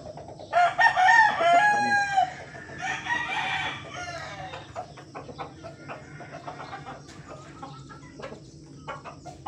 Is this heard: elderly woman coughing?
no